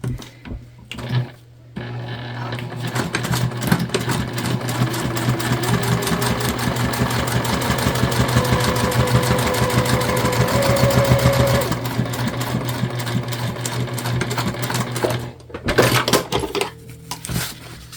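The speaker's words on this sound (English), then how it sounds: "you're top stitching just 1/8 of an inch away from the top of our pocket" A sewing machine top stitches across the top of a fabric bag pocket, one-eighth inch from the edge: a steady, close mechanical whir and rapid needle chatter running for about thirteen seconds before stopping, with no talking.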